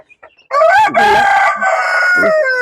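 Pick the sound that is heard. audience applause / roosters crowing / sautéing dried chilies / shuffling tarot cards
roosters crowing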